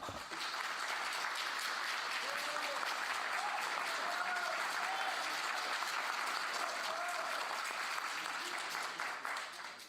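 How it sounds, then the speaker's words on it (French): Sustained applause from a seated crowd at a municipal meeting supporting town workers in Noisy-le-Grand, steady and fairly distant, continuing for the full stretch before tapering slightly at the end. "Que d'applaudissements, Monsieur Monnier."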